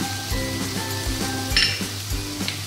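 Tomato and ginger paste being stirred and fried in oil in a pan, a soft continuous sizzle broken by rhythmic scrapes and clinks of a metal spoon against the pan.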